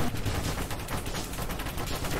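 Rapid, continuous weapon fire from a ship in the space shooter game Nova Drift, a dense stream of close, loud shots with no pauses.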